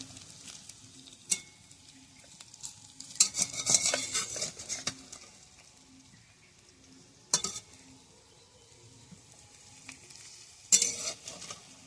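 Helencha leaf fritters fry gently over low heat in a pan, a soft, quiet sizzle broken by several sharp clinks and scrapes of a metal utensil against the pan.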